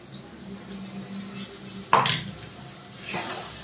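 Poppy-cashew paste stirred in a pan for a paneer dish, with soft scraping and a single sharp metallic clink of the spoon against the pan, fairly quiet and close.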